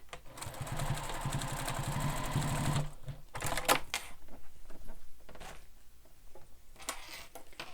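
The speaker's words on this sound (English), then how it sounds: "I'm going to stitch the other side" A sewing machine runs in a fast steady burst while stitching the side of a Bethany Beach bag, stopping near the three-second mark, followed by lighter handling noises and clicks at close range.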